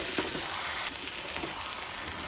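Shredded cabbage fries in a pan with slit green chillies and fried potatoes, cooked with mutton fat, giving a dense, continuous close-up sizzle with a few soft stirring scrapes and no talking.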